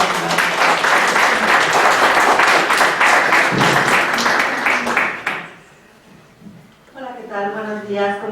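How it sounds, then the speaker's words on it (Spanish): An audience breaks into loud, dense applause to welcome a female lecturer at a Universidad Abierta event, sustained for about five seconds before it cuts off, followed by a pause and then someone speaking. "Vamos a recibirla con un fuerte aplauso"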